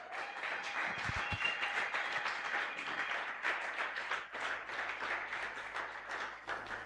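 A church congregation at a Sunday praise and thanksgiving service bursts into sustained, dense applause, a steady wash of many hands clapping together that holds for several seconds without speech.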